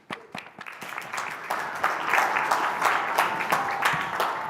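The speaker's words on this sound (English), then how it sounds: "Thank you for the resounding applause." Audience applause for a conference speaker at a vertical farming congress, starting as scattered claps and swelling into steady, dense clapping from a sizeable crowd that holds for several seconds.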